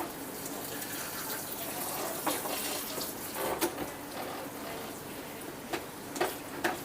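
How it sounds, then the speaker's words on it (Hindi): Water runs steadily from a salon tap while a client's hair and scalp are washed, a continuous hiss with occasional soft splashes and drips close by. "मैंने पहले स्कैल्प को अच्छे से पानी से वॉश कर दिया।"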